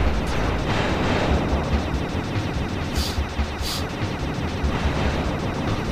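Dense, loud rumbling bursts of gunfire and explosions from the video game Sly 2: Band of Thieves, continuous and heavy throughout.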